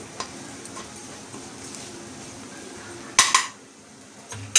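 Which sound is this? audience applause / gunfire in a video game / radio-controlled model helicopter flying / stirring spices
stirring spices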